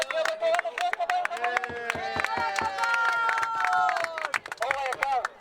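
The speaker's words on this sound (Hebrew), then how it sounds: "מחיאות כפיים!" Applause at a bar mitzvah at the Western Wall, scattered sharp claps mixed with a crowd's cheering voices and rising calls over several seconds.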